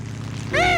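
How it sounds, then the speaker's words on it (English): A cartoon rescue plane's propeller engine swells in suddenly as it flies overhead, a loud tonal drone that arrives halfway through after a low rumbling background. "It's a rescue plane!"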